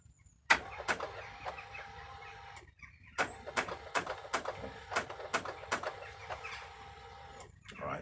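An Aprilia Shiver motorcycle cranks with a starter that struggles to catch, giving a rhythmic series of sharp, repeated engine turns up close with short pauses between them.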